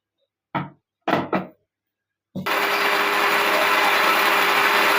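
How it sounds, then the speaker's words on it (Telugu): A kitchen mixer grinder loaded with onion, red chilli, tomato, cashew and pepper powder gets a few sharp knocks, then whirs to life with a loud, steady grinding drone that continues to the end. "ఇప్పుడు మనం దీన్ని మిక్సీ పట్టుకుందాం."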